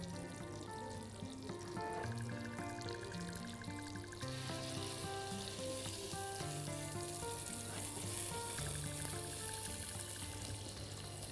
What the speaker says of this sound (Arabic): دلوقتي هنا الطاسة عندنا سخنت تمام، بنقدر بقى نحط اللحمة بتاعتنا